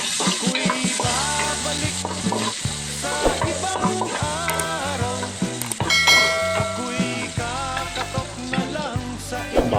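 Onions hitting a pan of lightly pre-fried pork sizzle steadily and loudly up close, the frying hiss running under prominent background music throughout.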